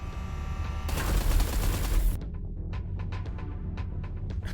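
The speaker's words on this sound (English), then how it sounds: "Watch out, the artillery." Heavy artillery barrage in the space combat game Everspace 2, a loud dense roar of fire lasting over a second before cutting off to sharp scattered crackles and pops.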